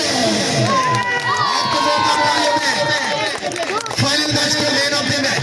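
A crowd cheers and shouts loudly at the prize distribution ceremony of an Eid Milan cricket tournament in Nagri Totial, the roar sustained and near with voices rising over it.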